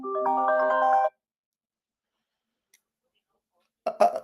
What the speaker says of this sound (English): Why is my phone ringing there?